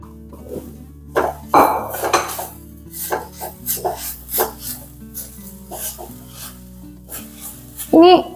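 A spoon stirs crushed coconut, shallots and curry leaves into elephant foot yam for a thoran in a pan, giving repeated close scraping and clinking strokes over a light sizzle, with no voices.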